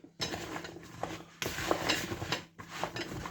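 Courgette and potato masala tossed and stirred in a pan, the spoon scraping and rattling continuously in three close, steady bursts with brief breaks between them, and no talking.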